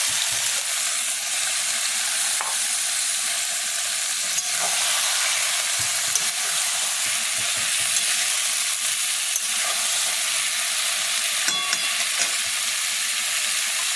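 Boiled jackfruit and fried potatoes frying in masala with tomatoes for an echorer kalia, a steady close sizzle with occasional stirring scrapes and clinks, no talk.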